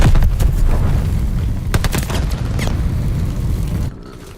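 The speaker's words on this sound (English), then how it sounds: "Tossing grenade" A grenade explodes in the Call of Duty video game with a loud, heavy boom, followed by rumbling gunfire and blasts that fill the scene before cutting off abruptly near the end.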